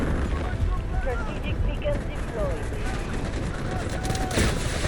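Gunfire in the shooter game Delta Force, dense bursts of shots and rumbling explosions blending into a loud, continuous battle din, with a player's voice talking over parts of it.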